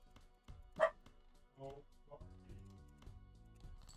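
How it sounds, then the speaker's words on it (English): A dog barks indoors while other dogs bark outside. A few short, fairly faint barks and yips come at irregular intervals against a quiet background. "There are dogs barking outside, so of course our dog is barking as well."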